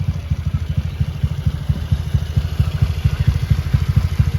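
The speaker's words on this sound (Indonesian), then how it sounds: "Suara mesinnya halus ya," A Honda Beat scooter engine, bored up to 120cc, idles close by with a smooth, even, rapid pulsing beat that stays steady throughout.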